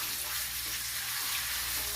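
A meat bone searing in a hot pan, a steady quiet sizzle and crackle running without pause, heard alone.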